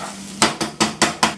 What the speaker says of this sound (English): Now I'm just going to stir it around so it can get all coated with the flavored olive oil